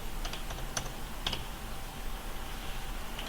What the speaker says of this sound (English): just simply typing the style number if you wish